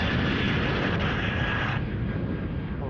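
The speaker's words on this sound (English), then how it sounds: "a plane taking off" An airliner takes off at Sydney Airport, its engines a loud, broad, continuous roar that holds steady and then eases slightly toward the end, with no talk over it.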